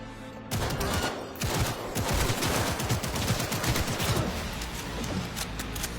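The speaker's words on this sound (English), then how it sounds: "it's a machine pistol, or a fully automatic pistol, and it's kind of chugging along" Fully automatic machine pistol in the Cyberpunk 2077 video game, firing loud, rapid, chugging bursts of gunshots that run almost continuously after a brief opening, with no talking.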